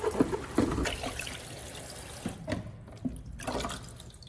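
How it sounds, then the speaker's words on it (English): A cabbage leaf is rinsed under a running kitchen tap, with splashing, trickling water and a few sharper spatters and drips as the leaf is moved through the stream. "I like to give mine a quick rinse under running water to wash away any dirt"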